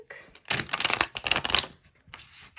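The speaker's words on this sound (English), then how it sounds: "so I'm gonna shuffle this deck." A deck of tarot cards is shuffled up close in a few quick riffling bursts separated by short pauses, crisp papery flutters with no talking.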